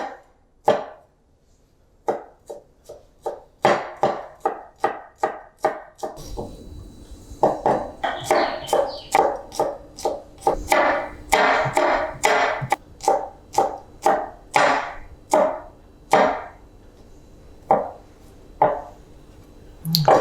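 A knife slices lengthwise-cut lemon on a wooden chopping board in a steady run of crisp, close thuds, quicker and denser in the middle stretch.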